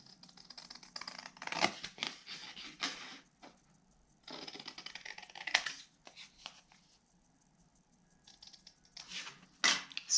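Scissors trim around a small paper square for a mini notebook, in short scratchy bursts of cutting with quiet pauses between them, close up and fairly soft.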